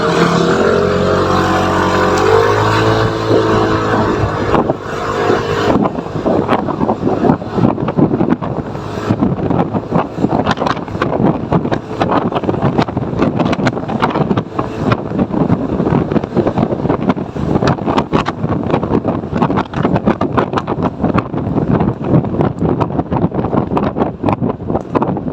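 A scooter with an upgraded CVT accelerates hard on an outdoor test run, its engine droning loud and rising, then holding a steady roar buffeted by heavy wind noise.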